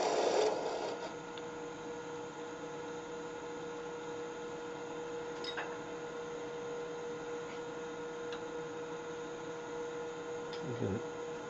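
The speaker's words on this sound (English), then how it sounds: "We'll speed the lathe up a little bit." A wood lathe spins a small miniature bird ornament at a higher speed, producing a quiet, steady motor hum with a constant tone that runs evenly throughout.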